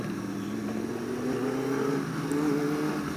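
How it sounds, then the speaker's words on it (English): A car rushes past a moving motorcycle on a road, its engine rising and swelling over steady wind and road rumble. "Whoa, car."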